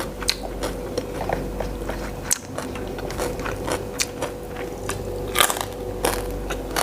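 Crispy fried pork belly bitten into up close, giving repeated sharp crunches and crackles with chewing between them, served with fresh vegetables at a home meal. No talking.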